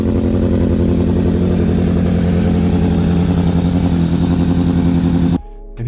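Suzuki Bandit 600 motorcycle engine idling steadily, loud and close, a continuous throbbing drone that cuts off abruptly near the end.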